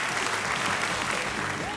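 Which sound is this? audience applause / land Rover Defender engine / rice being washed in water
audience applause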